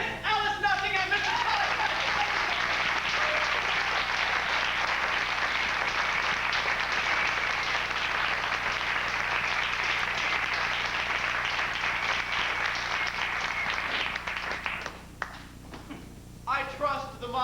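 Theatre audience applauding at a staged musical, a dense steady wash of clapping that fills the room for about fourteen seconds before thinning out, with a brief voice or tone rising near the end.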